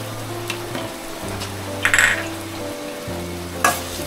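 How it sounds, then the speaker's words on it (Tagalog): Ginger sizzles softly in a hot pan while being stirred, a steady frying hiss broken by a few scraping clinks of utensil against the pan. "Sigisa lang natin"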